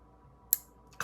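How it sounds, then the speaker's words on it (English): A Demko flipper knife, a CDC exclusive Ocaso Solstice, fires open with one sharp snap at mid-clip, then a second detent click lands right at the end, both crisp and close against quiet. "you can hear it just fire out of there, and it gives a nice click on the close"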